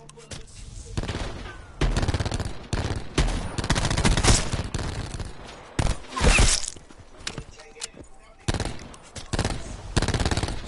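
Gunfire from another player in a video game, repeated bursts of rapid automatic shots separated by short pauses, loud and close, with a few single reports between volleys.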